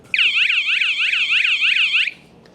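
A loud aftermarket van alarm wails in a rapid rising-and-falling electronic siren for about two seconds, then cuts off abruptly.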